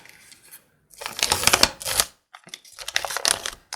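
Paper crinkles and tears as a handmade paper surprise packet is opened up close, in two bursts of crumpling and rustling separated by brief pauses.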